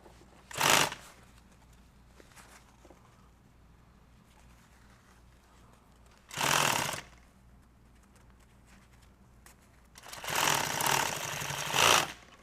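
A sewing machine stitches a nylon tactical bag in three short loud bursts of rapid needle clatter, separated by quieter pauses with faint handling noises and no speech.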